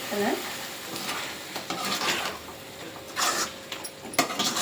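Chicken gravy cooking in a pot, with a sizzling, bubbling simmer and occasional scrapes of a spoon against the pot, fairly close with little talk.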